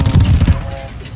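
Gunfire from a video game shooter rips out as a loud, close burst of rapid shots that fades into a short tail after about half a second.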